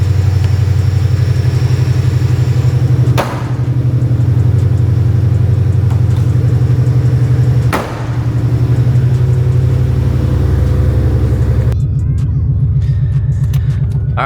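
A car fitted with an aftermarket street exhaust and intercooler pump, running on E85, rumbles loudly and steadily up close with a deep idle burble, briefly dipping twice before settling into a quieter, lumpy idle.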